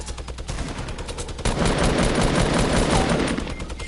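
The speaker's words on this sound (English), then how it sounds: "I am double grenade launching like a pro." A grenade launcher in a video game fires twice, and the rapid booming blasts and rattling gunfire swell suddenly halfway through and stay loud and dense to the end.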